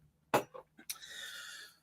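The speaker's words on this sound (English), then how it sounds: "Start coughing" A short cough, then a brief throat sound and a harsher, breathy cough trailing off, close and fairly loud in a quiet room.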